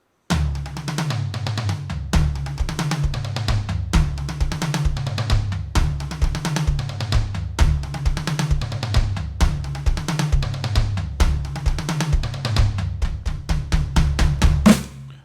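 Tom groove from a song on a drum kit, rolling from high tom down to floor tom in a fast, steady repeating pattern of loud close hits for about fifteen seconds, with no talk.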